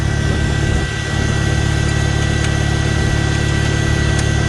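A Farmall tractor engine runs loud and steady with its mower engaged, a dense continuous drone and vibration close by without any breaks.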